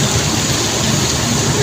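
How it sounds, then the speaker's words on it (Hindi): A motorcycle engine idles steadily on a flooded Lahore street during heavy rain, a continuous low close drone with a wash of broadband noise over it. "मोटरसाइकिल ना बंद करके"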